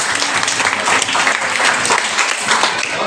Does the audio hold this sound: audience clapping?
yes